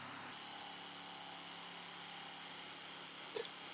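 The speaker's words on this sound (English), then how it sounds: "And then I'm going to turn the jigsaw around and hit the other corner to get those right angles." A jigsaw cutting wood to make right-angle corners, a steady high whining motor buzz running throughout at even level, close, with a brief tick near the end and no speech.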